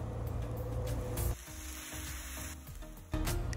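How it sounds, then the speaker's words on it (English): Low sodium soy sauce hits a hot pan of shrimp, chicken, broccoli and okra stir fry, giving a loud, steady sizzle that briefly drops and then surges again, with no talking. "We're going to add our low sodium soy sauce."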